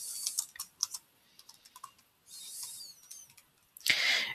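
Keys tapped on a computer keyboard while a title is typed into a web editor, short uneven bursts of clicks with pauses, close and fairly quiet, ending in a louder rustling burst.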